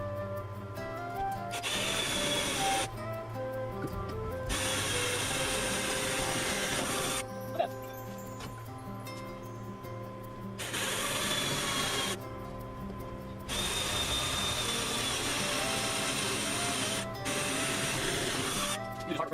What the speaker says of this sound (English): I'm drilling some holes to mount it.